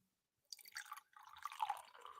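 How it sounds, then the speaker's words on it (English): Red Bull Iced Vanilla Berry energy drink poured from a can, a short close fizzy splashing pour starting after a brief silence and continuing steadily. "Oh, listen to the sound of that pour."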